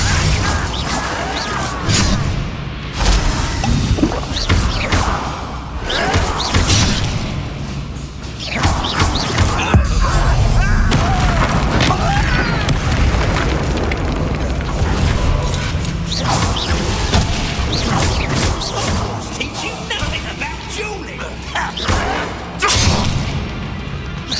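Spell combat in the video game Hogwarts Legacy produces a dense, loud stream of magical blasts, whooshes and crashing explosions that overlap continuously with hardly a pause.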